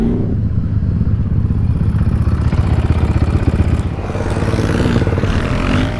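An engine at sand dunes being turned over and starting weakly: a loud, continuous mechanical clatter with a dense, rapid rhythm that runs for about six seconds, close by, with no talking.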